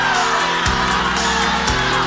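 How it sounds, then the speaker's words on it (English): A studio audience at The Price is Right yells and cheers steadily at a contestant, a dense, continuous crowd roar with overlapping shouts and no pauses. "Your friends are yelling if you're to stop."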